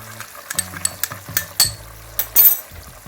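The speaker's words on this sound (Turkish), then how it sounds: "2 yemek kaşığı limon suyunun içine 1 çay kaşığı tuz koyuyorum. Karıştırıyorum." A spoon stirs a teaspoon of salt into two tablespoons of lemon juice in a small bowl, giving a few sharp clinks and scrapes of metal against the dish at an uneven pace, close and alone.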